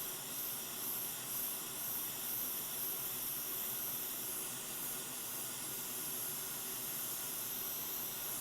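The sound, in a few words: hot air preheating a Sapphire Nitro+ 6950 graphics card board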